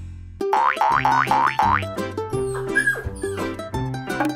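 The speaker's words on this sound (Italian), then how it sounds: "questo è un cane!" A dog yips and whimpers in a rapid run of high, whining cries, then barks and yelps in uneven bursts, loud and close, with no talk.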